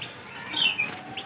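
Sunda bulbul (kutilang mas) from East Java, a young bird for sale at a bird market, gives a few short bright chirps over a steady background hiss, fairly close.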